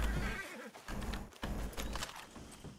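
A horse in the video game Red Dead Online gives a close, loud neigh, with hoof clip-clops and scuffling right after, all in a short burst.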